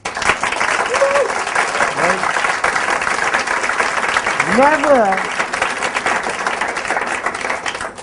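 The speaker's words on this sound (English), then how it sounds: "That deserves a round of applause." A large audience at a Qnet business talk claps steadily and loudly throughout, a dense wash of applause with a voice speaking briefly over it.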